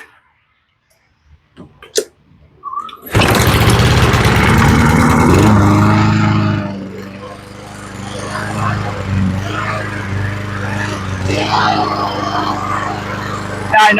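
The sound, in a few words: Honda lawn mower engine starting and idling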